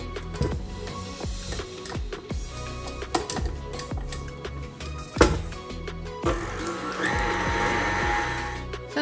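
Electric mixer whisking butter and condensed milk for an Indonesian lapis spice layer cake, a steady close whirr with repeated clattering knocks against the bowl and a brighter, louder stretch of beating near the end.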